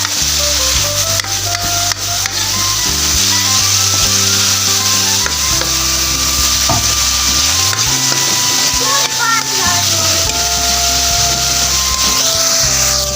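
Palak qeema curry being stirred in a sizzling pan, with steady frying hiss and a spoon scraping and stirring close up, loud and continuous throughout.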